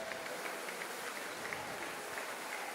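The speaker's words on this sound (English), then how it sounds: "Big applause." Applause from a crowd at a youth bouldering competition final in Soure, Portugal, a steady dense patter of clapping with no clear breaks, moderately distant and filling the hall.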